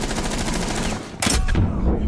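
Rapid automatic gunfire in a shooter video game, with a dense, loud burst of continuous shots that briefly cuts out, followed by a sharp blast and more firing.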